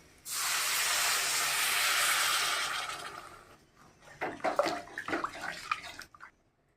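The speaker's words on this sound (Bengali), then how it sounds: "জল দিয়ে দিলাম" Water poured onto fried potatoes in a hot pan gives a loud, sustained hissing rush of steam for about three seconds, followed by bubbling and a few clattering stirs.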